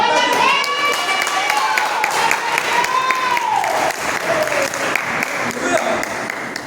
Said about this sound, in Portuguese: Receba o Senhor com as palmas